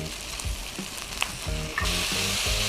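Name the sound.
sautéing carrot and potato with bolognese meat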